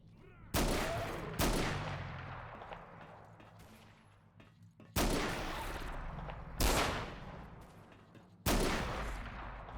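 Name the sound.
gunfire in video game Fate of the Zone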